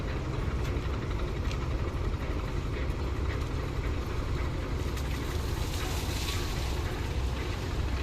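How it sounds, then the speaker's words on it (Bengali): A passenger launch's engine runs slowly on a river, giving a low, steady rumbling drone with faint clatter, heard at moderate level throughout. "সেই কারণে স্লো চালাচ্ছে পূবালি স্বাদ লঞ্চটি"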